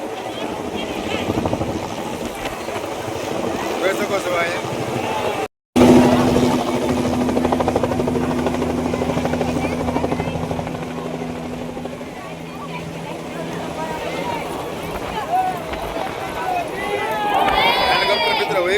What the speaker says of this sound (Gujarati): હેલિકોપ્ટર દ્વારા પુષ્પને વરસાદ કરવામાં આવ્યો હતો